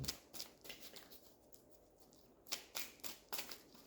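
Archangel Oracle cards being shuffled by hand: a run of crisp, papery riffles and taps close by, quieter in the middle and then resuming in several sharp bursts, with no voices.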